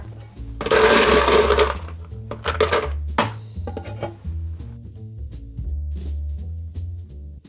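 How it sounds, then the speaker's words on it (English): Fresh ice for an apple pie margarita being scooped and clattered, with loud rattling and grinding bursts followed by clinking and tapping of ice against a vessel, no talking. "We need some fresh ice now."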